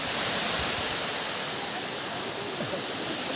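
Bisibis Falls pours in a loud, continuous broadband roar of falling water, steady throughout with no pauses, heard from an overlook above the falls.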